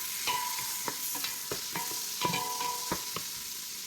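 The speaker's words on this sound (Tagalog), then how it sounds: "Lagyan na natin ang garlic." Minced garlic frying in a pan with white onion, stirred repeatedly while making pineapple chicken; steady close sizzle with scraping strokes of a utensil at irregular intervals, no voices.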